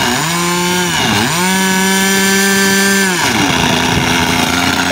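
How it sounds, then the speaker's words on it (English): An SK .50 glow engine with its stock muffler, fitted to a Global Hobbies Birdie 40 model plane, screams loud and steady, its pitch dipping and climbing as the throttle changes, with no voices. "here's now the SK50 engine with stock muffler in flight action for now"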